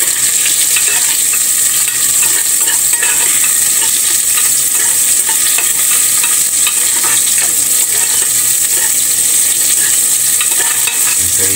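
Onions fry loudly in a hot pan for a cod rib broth, a constant dense sizzle with light scraping from stirring throughout, close and with no voices.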